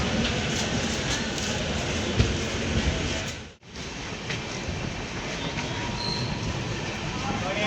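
Superfast express train 12163, the MGR Chennai service, runs out of Erraguntla station, its steady rolling rumble and wheel noise continuous from inside the coach, with one brief dropout midway.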